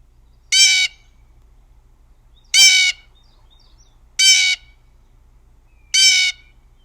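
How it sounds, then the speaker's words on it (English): Four loud, harsh blue jay calls, evenly spaced about two seconds apart, each a short raspy burst against a quiet background. "That, my friends, is a blue jay."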